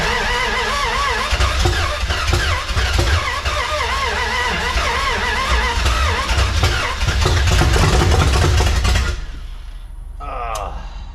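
A 1981 Dodge D150 pickup engine cranks and catches, then runs loud and rough close by for several seconds before cutting out, leaving a quieter tail.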